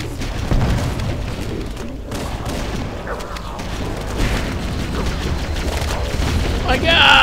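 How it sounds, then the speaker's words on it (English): Grenades go off during a Legendary firefight in the Halo 1 level The Library, booming blasts mixed with dense gunfire and battle noise, loud and continuous, while players talk over the action. "Grenade."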